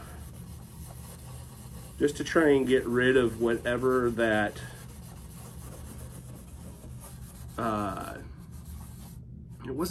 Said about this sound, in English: Sort of wet sanding in it.